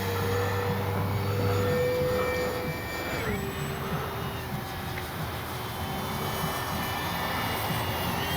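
A Kavan Bristell B-23 RC model airplane's electric motor whines steadily during takeoff, a thin, faint buzz that shifts pitch and fades slightly as the plane pulls away.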